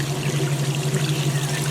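Water drains steadily from a Kenmore 80 Series washing machine, a constant close pouring rush over a low motor hum, with no voices.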